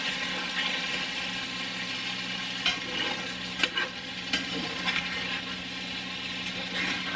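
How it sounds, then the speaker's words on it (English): Keto chicken strips sizzle steadily in a cast iron pan while being stirred, the constant frying hiss broken by a few scraping and clattering knocks from the stirring, close up and with no talking. "stir these around a little bit"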